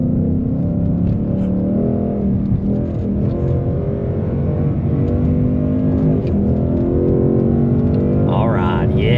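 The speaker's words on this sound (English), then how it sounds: "Let the Cody rev on up." Ford Mustang S550 with the Coyote V8 and 10-speed gearbox revving as it accelerates, a loud, close engine drone rising in pitch and holding steady throughout, with a voice speaking over it.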